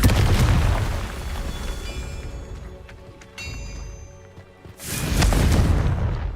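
Confringo fire spell blasting in Hogwarts Legacy: a loud, heavy booming explosion with a rumbling tail fades into a quieter stretch, then a second powerful blast erupts near the end.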